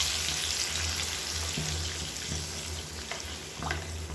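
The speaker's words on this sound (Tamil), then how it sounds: "இப்போ இந்த வறுத்ததை வந்து இந்த எண்ணெயோட புளிக்காய்ச்சலில் சேர்த்துக்கலாம்." Roasted spices are stirred into a tamarind paste cooking in oil for puliyodharai, giving a steady, moderately loud sizzle with occasional scraping stir sounds.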